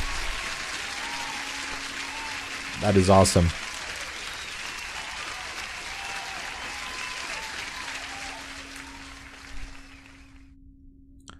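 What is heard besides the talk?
applause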